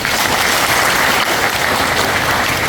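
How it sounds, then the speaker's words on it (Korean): An audience at a 30th-anniversary talk show for the Silla Culture Institute gives a dense, sustained round of applause that stays loud and even throughout, with no talking. "다시 한번 박수 부탁드립니다"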